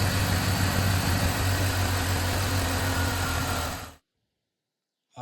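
A 2005 BMW 325xi engine idles steadily and loudly after a fresh oil filter housing gasket and VANOS oil line repair, a low rumbling drone that holds for about four seconds before cutting off.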